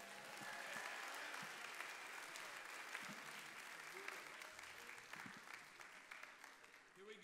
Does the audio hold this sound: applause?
yes